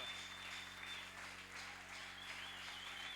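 Church congregation at a Sunday service applauding, a dense, continuous wash of many hands clapping heard from a distance, steady and fairly quiet throughout.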